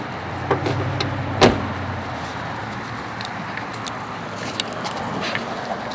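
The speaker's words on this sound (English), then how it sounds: "So now we're going to get out of the van before this car hits me." A van door slams once, sharp and close, amid steady outdoor road traffic, with a few lighter knocks and clicks as someone climbs out; no one talks.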